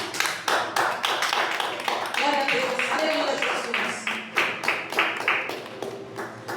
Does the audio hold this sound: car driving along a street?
no